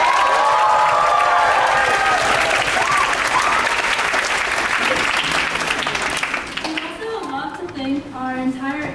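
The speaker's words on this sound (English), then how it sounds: "So please stand up for a round of applause." Loud, sustained audience applause fills a concert hall at a spring pops concert, a dense wash of clapping with scattered voices and cheers that thins slightly near the end.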